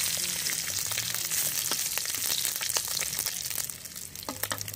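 Green chili and bay leaf fry in hot oil for a fish head and moong dal dish, giving a steady, close, hissing sizzle with scattered crackles and pops throughout, no voices.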